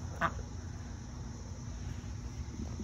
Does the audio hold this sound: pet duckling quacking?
yes